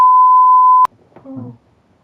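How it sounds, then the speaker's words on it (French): A single steady censor bleep, a pure sustained tone lasting almost a second and ending abruptly, followed by brief faint speech. "je vais faire bip"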